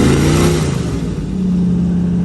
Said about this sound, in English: who make noise with their boats